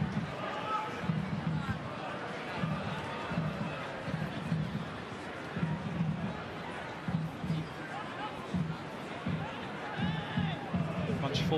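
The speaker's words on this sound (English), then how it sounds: "a good crowd enjoying a good game" Crowd noise at an A-League football match between Adelaide United and Western United, a steady murmur of thousands of fans with scattered shouts, running beneath continuous commentary.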